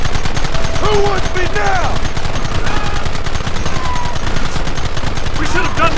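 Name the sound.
gunfire in a shootout, from video game Red Dead Redemption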